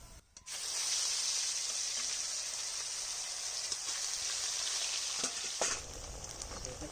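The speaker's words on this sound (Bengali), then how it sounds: "এবার বাকি মাছগুলো ভেজে নিচ্ছি" Fish frying in a pan of oil at a village kitchen, a loud steady sizzle that runs unbroken for the whole stretch, with a few brief crackles and stir sounds near the end and no talking.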